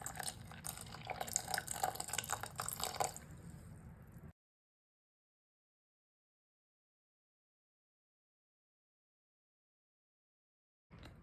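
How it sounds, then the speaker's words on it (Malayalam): Tamarind water pours into a fish curry of tomato and green chillies, a short close splashing gush that cuts off abruptly into silence. "നമുക്കിനി പുളിവെള്ളം ഒഴിച്ചു കൊടുക്കാം."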